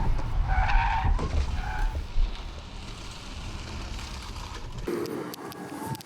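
A 2024 BMW i5 swerving through a moose-test lane change, its tires skidding and scrubbing loudly across the pavement over a steady broadband roar, easing off toward the end.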